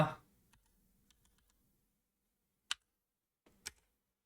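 Computer keyboard keys pressed one at a time, a few faint scattered clicks followed by two sharper, louder key taps after a pause, in an otherwise quiet room.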